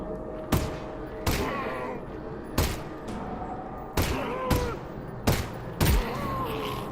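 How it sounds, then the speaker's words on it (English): In Half-Life: Alyx, six sharp gunshots ring out at irregular intervals, each a loud, close crack with a short reverberant tail. Between them sit quieter game ambience and faint creature or effect sounds. "Nice shooting, Alyx"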